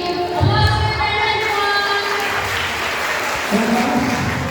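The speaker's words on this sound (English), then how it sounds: "Applause for your friend" Students and lecturers at a university new-student introduction event applaud a classmate, with close, lively clapping running throughout while a voice talks over it.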